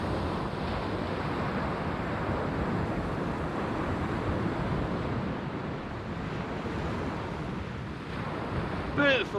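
Wind blows steadily across a sea-fishing beach at Easington, a constant broadband rush with surf-like texture and microphone buffeting, ending in a brief faint squeak.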